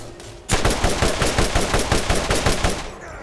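Rapid automatic combat rifle fire in the video game Borderlands, a loud sustained burst of evenly spaced shots beginning after a brief quiet lead-in and running to the end, with no talk.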